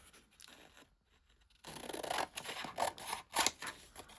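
Scissors cut through copier paper after a quiet pause, a run of close, crisp snipping and rasping strokes coming in uneven bursts.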